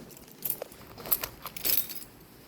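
A bunch of keys jangled close by while being fished out: several bright, irregular metallic rattles in quick bursts over a low background, with no speech.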